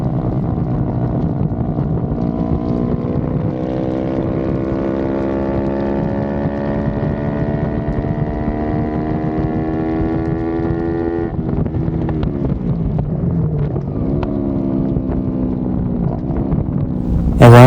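Motorcycle engines screaming at high revs during a Supersport 350 race on a track, a steady sustained whine with rising pitch sweeps as gears shift, heavy wind noise over the rider's microphone.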